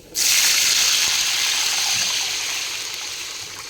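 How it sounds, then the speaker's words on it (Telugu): Water is poured into a pan of fried vermicelli with its tempering, starting abruptly as a loud, continuous gushing splash that slowly eases off toward the end. "పోపు తాలింపు అయిపోయింది ఇందులో నీళ్ళు యాడ్ చేసుకుని"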